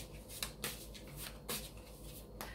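Tarot cards are shuffled by hand, soft papery riffles and slaps repeating irregularly over a low steady hum, quiet and close with no talking.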